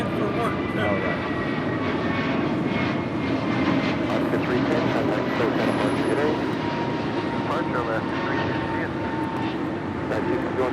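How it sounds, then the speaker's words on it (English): Alaska Airlines Airbus A321neo jet departing Los Angeles International Airport, a steady broadband engine roar holding loud throughout, with people talking over it. "This is Alaska Airlines 310 departing to Washington Dulles on an A321 Neo"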